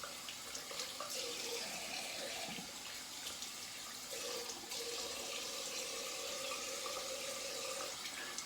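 Tap water runs steadily into a sink for rinsing after a wet shave with a Weck Sextoblade razor, a continuous close splashing stream with brief clatters, no voices.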